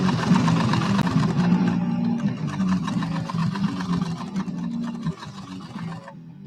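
An Adler 189A sewing machine stitches through thick leather with a loud, rapid mechanical chatter that runs continuously, then slows and stops near the end.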